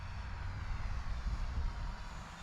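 Eachine F4U Corsair 400mm EPP RC plane with a gear drive motor making a full throttle hot pass, a steady continuous drone held loud throughout with low rumbling wind buffeting.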